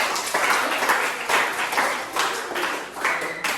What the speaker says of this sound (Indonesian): Beri tepukan buat Dika